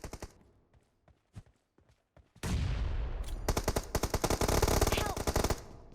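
Gunfire in the mobile battle royale game PUBG Mobile: a few sparse single shots, then a loud sustained burst of rapid automatic fire with sharp repeated cracks, close and dominant.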